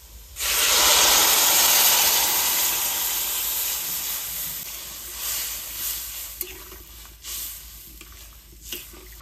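Water poured into a hot pan of fried papaya and potato seasoned with turmeric bursts into a loud, rushing hiss of steam that slowly fades to a softer sizzle with a few small clicks.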